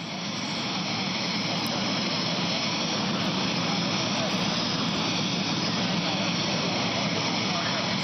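Airliner engines idle steadily as the aircraft carrying the Pope prepares to leave Brazil, a continuous loud broadband roar lasting throughout with no pauses.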